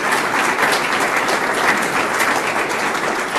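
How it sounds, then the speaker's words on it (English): An audience at a lecture on George Washington and the Supreme Court applauds steadily, a dense, even wash of clapping from many hands filling the whole stretch without talk. "So please, please join me in a round of grateful applause to the Lehrmans"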